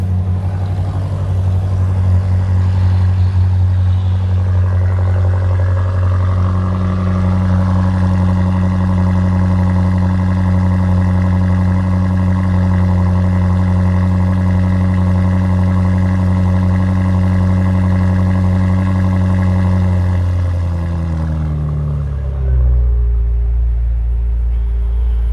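A BMW M8 Gran Coupe engine runs steadily at a deep, loud idle with strong low harmonics, then the pitch drops as revs settle near the end.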